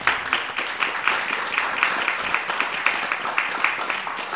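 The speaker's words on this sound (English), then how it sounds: "I think that deserves a round of applause." A round of applause at a CSW side event, dense and continuous clapping from a room of people, steady and fairly loud for several seconds with no one speaking over it.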